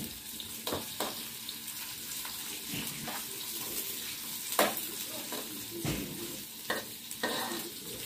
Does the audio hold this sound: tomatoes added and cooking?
yes